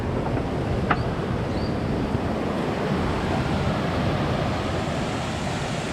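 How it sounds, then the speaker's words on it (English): Steady, dense rushing of a fast-flowing river in Snowdonia forest, a continuous broadband roar with wind buffeting the microphone. "Fast flowing water."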